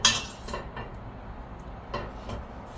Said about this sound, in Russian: Так, я беру кастрюлю.